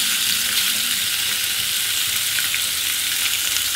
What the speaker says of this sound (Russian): Сковорода нагрелась. Отправляем жарить рыбу.